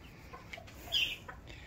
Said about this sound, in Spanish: Aquí están, miren, los mapuches. La gallina y sus pollitos.